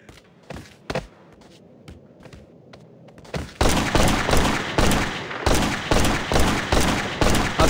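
Pistol gunfire in the video game Melon Sandbox: a few sparse shots at first, then a loud, sustained barrage of rapid, evenly spaced bangs with no talking.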